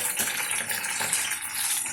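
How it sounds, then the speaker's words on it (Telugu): Mint leaves fry in a pan, turning light brown, giving a steady, even hiss of sizzling oil with no voices over it. "పుదీనా ఇట్లా ఫ్రై కావాలి."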